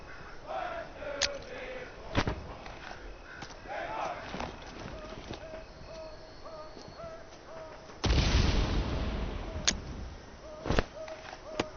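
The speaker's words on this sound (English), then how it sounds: "Grenades are a powerful explosive item. Equip one now and throw it towards the enemies." A grenade thrown in Hell Let Loose Vietnam bursts in a loud, sustained blast partway through, amid scattered sharp gunshots and footsteps in a tense battlefield soundscape.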